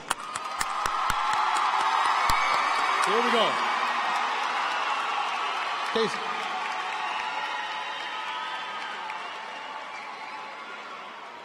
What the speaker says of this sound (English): let's give our students a big round of applause